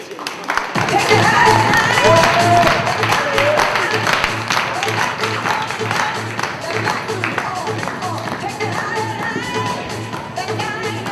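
An audience applauds a slam poet at a 2015 slam poetry contest, loud clapping and crowd noise mixed with a speaking voice throughout.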